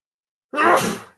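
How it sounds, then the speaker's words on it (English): A single sharp sneeze bursts out after a moment of silence, close and fairly loud, then trails off quickly. "I feel like I'm going to sneeze again"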